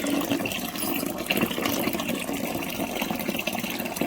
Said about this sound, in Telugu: దీనికి కూడా వాటర్ పోస్తాను